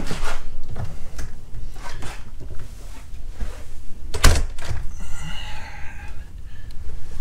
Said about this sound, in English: Let me step down and shut the door.